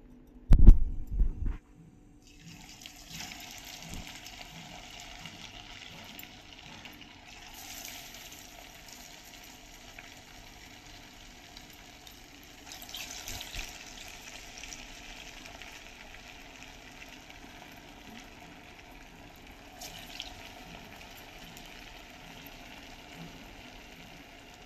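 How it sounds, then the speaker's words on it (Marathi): Raw papaya vadas deep-fry in oil over a medium-high flame, a soft, continuous sizzle and bubbling that follows a brief louder knock at the start. "मीडियम टू हाय फ्लेमवरती हे मी वडे तळते आहे"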